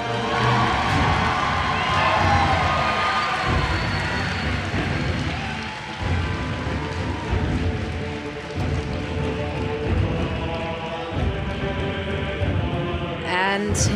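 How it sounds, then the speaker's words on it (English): A large arena crowd at BlizzCon cheers and applauds for the World of Warcraft Arena Global Invitational grand finals, a steady, loud roar that fills the whole stretch while an announcer speaks over it. "Please, a big round of applause"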